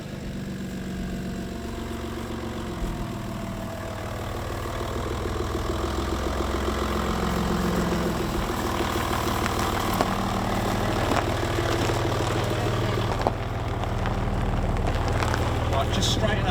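An Audi A4 2.5 TDI Quattro diesel idles steadily with a low, continuous rumble under faint background noise, holding a near, even level throughout.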